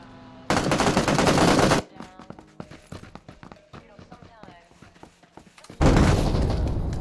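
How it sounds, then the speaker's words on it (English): Bursts of rapid gunfire roar loudly at the start and end, with scattered shots and an excited voice talking in between. "Oh, a lot of shots going in here."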